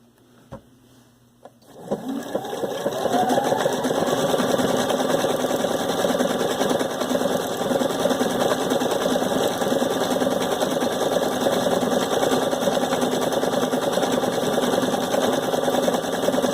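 A Viking Sapphire 930 sewing machine starts up after a soft click and runs steadily, stitching bobbin work with a loud, even mechanical hum that continues without a break.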